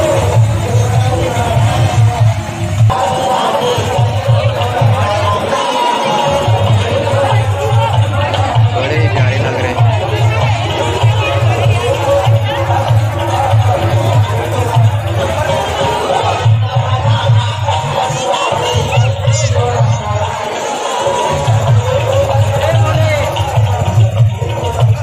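A dense crowd packs the Ganga Maiya temple grounds at Jhalmala, Balod, with continuous murmuring babble over a steady low droning hum that drops out briefly a few times.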